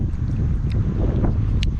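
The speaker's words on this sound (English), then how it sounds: "I know it's windy" Steady wind roars across a microphone on a boat on a lake during chatterbait bass fishing, a constant low rumble with a couple of faint brief clicks.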